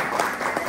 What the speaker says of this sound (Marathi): टाळ्या वाजवायच्या सर्वांना विनंती आहे